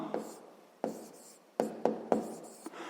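A pen writes out a sixth-grade maths exercise on paper, heard as a series of close scratchy strokes with sharp onsets, about six in three seconds, with no talk.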